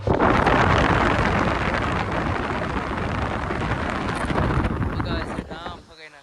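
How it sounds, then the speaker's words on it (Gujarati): Loud, steady rushing of air from a fan blowing hard against the microphone, a continuous roar that fades out near the end. "હમણાં પવન આવે છે."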